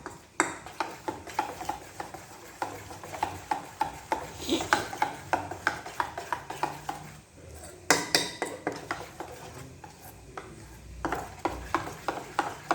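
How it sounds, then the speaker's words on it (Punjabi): Gram flour (besan) batter being whisked in a bowl for besan bhurji, heard as a steady run of quick, close metallic taps and scrapes against the bowl, repeating rhythmically throughout with no talking. "ਲਓ ਜੀ ਬੇਸਣ ਆਪਣਾ ਆਪਾਂ ਚੰਗੀ ਤਰ੍ਹਾਂ ਘੋਲ ਲਿਆ"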